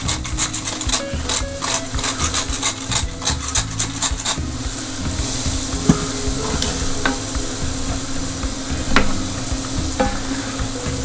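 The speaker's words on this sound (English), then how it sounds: "we just want to cook this down until those onions start to soften up a little bit" Chopped onions with a pinch of salt and black pepper cook in a pot, a steady close sizzle under repeated scraping and stirring strokes, brisk at first and then settling into a continuous fry with occasional clicks.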